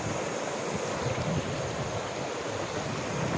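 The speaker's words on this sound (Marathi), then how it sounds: "आणि आता त्या वॉटरफॉलचं जे पाणी आहे ते असं आता खाली येतं." Water plunges down Pahine waterfall in a constant broad rushing roar, fairly loud and unbroken, with some wind buffeting the microphone.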